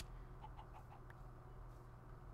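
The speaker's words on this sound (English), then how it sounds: "Hello, chicken." A chicken in the Minecraft modpack Crazy Craft gives a few quick, faint clucks in a short burst over a low steady background hum.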